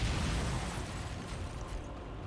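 Deep rumbling explosions shake an underground chamber in the Tsukihime visual novel, a loud sustained low boom that slowly fades.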